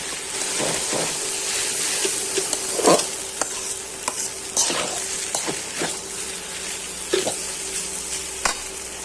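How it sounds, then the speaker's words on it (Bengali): Boiled noodles frying with carrot and potato in a pan, a steady sizzle broken by repeated scraping stirs of a spatula, close and fairly loud with no talking. "আগে থেকে সিদ্ধ করা নুডলসটা দিয়ে ভেজে নিচ্ছি"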